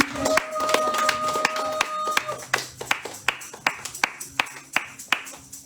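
A church congregation at a French-language worship service claps in a steady rhythm to acclaim Jesus, sharp close hand claps repeating roughly twice per second over a sustained sung or organ tone.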